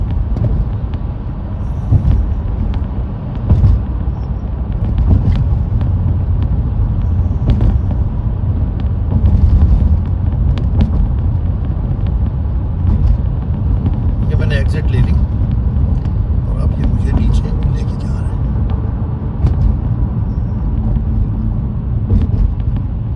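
Dense highway traffic near a bridge exit toward Brooklyn rumbles steadily from inside a moving car, a continuous low road roar with occasional passing vehicles, under someone talking throughout.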